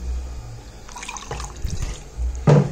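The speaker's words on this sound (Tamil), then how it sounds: "இப்போ இரும்பு கடாயில நம்ம இத வடிகட்டிடலாம்." A herbal hair dye liquid is strained into an iron kadai, with soft trickling and a few light splashes and drips, near and fairly quiet, without talk.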